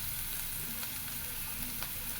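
Spices sizzle and fry in hot oil in a pan while cooking a fish and potato curry, a steady close crackling hiss with faint stirring.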